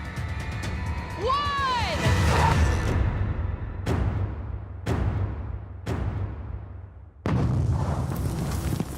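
A sand sculpture is blasted apart in a broadband roar with whooshing sweeps, followed by several sharp, loud blasts spaced about a second apart and a final surge of rumbling debris noise, with voices and crowd sound underneath.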